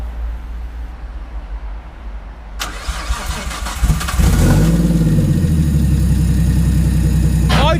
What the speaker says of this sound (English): We got it running now, fired right up on the settings the tuner said for the injectors and stuff.